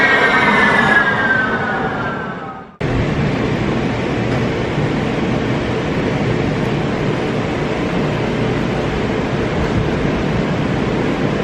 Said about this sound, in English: Here comes the train too.